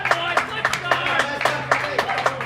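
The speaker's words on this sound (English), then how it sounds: "The voice of the Brisbane crowd lifts." A Brisbane crowd at a professional pickleball men's doubles gold-medal match breaks into lively, uneven clapping and cheering, bursts of applause rising and falling under a steady background hum.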